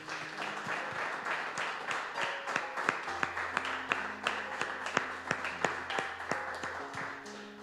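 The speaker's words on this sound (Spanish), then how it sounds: "Le damos un aplauso al Señor, mis hermanos" Church congregation clapping to praise God at the close of a Spanish-language service, a steady run of sharp hand claps with a rhythmic, beat-like pulse, moderately loud, with a low sustained tone beneath.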